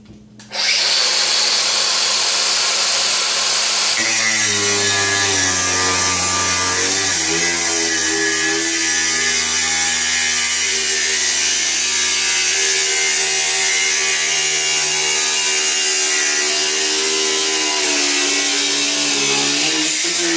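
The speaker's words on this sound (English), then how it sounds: "I'll do at least 1 cut in the pipe" A Makita cordless brushless angle grinder spins up and cuts through metal pipe, a loud steady high-pitched whine with the grinding tone shifting as the disc bites, running continuously close by without talk.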